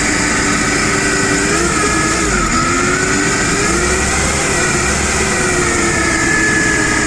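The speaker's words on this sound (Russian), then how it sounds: "Двигатель 4-цилиндровый, естественно, на карбюраторе." A TCM FG25 forklift's four-cylinder carburetor petrol engine idles steadily and loudly up close, a constant droning hum with a faint whine that wavers slightly.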